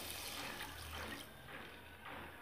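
Water poured from a rinsed bowl into cashew and melon seed paste in a pan, a brief soft splashing gush that fades after about a second, faint and close.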